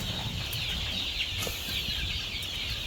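Young chicks under a week old chirp constantly on a farm, a dense, bright twittering chorus that carries on alone without any talk.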